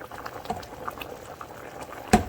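Rice boils in a pot, irregular soft pops and gurgles close by, with a sharper clatter near the end.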